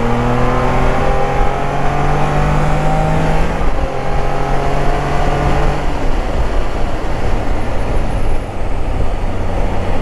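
A 2020 Can-Am Spyder RT three-wheeler accelerates, its engine note rising steadily in a loud, continuous drone with road and wind roar, no talking.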